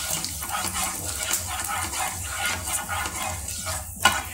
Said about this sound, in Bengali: তেলটাতে আমি এক চামচ পাঁচফোড়ন দিয়ে দিচ্ছি